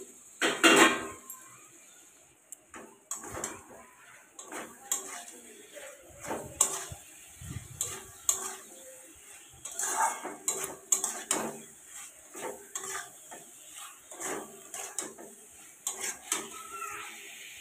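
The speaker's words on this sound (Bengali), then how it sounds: "এবার আমি এর মধ্যে দিয়ে দেবো ভেন্ডিটা, ভেজে রাখা ভেন্ডিটা দিয়ে দিলাম" Fried okra is tipped into potatoes for a Bengali aloo bhindi recipe and stirred in a pan. A spatula scrapes and clinks against the metal in an irregular rhythm, with soft sizzling underneath.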